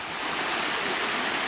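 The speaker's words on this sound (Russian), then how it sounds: "Так, заехали на малые водопады." Constant rushing roar of a small mountain waterfall in Chegem, broadband and steady, close by with no other sounds.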